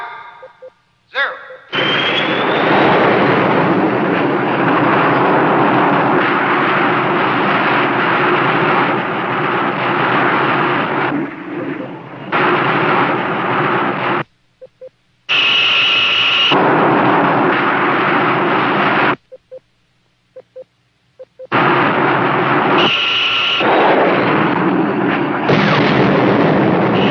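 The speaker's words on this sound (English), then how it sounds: "Counterattack by Hunter-type missile." Missile attack explosions in an old movie serial: loud, continuous roaring blasts and rumble fill most of the clip, broken by several abrupt silences, with bursts resuming after each gap.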